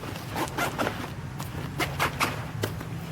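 Zipper pulls on the exposed zips of a 5.11 COVRT 18 backpack pocket, a series of short close raspy zipping strokes in quick bursts with brief pauses between them.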